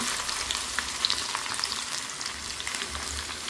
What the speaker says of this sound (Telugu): ఆయిల్ అయితే కాగింది కొంచెం కొంచెం వేసుకొని వేయించుకోవాలన్నమాట